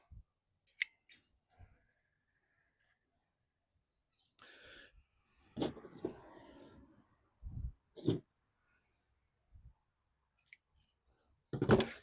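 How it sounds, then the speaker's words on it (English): Scissors snip diseased leaves off a crape myrtle, a few separate close, crisp cuts spaced out with quiet gaps, plus faint rustling of foliage between them. "If you see a leaf that looks like it's got a little bit of disease or something on it, just go ahead and pinch or snip that one off"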